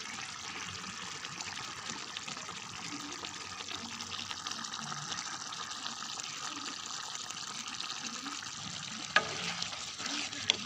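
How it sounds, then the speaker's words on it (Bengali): Catla fish head muri ghonto with rice being stirred in a pan, giving a steady close sizzle and soft bubbling throughout with a couple of faint utensil knocks near the end. "এখন একটু নেড়ে নেব।"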